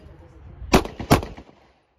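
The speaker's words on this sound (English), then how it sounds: "Draw and fire two to the head." Handgun shots at a shooting class: two sharp, loud cracks about a third of a second apart, each with a short ringing tail, after a quiet moment with faint background murmur.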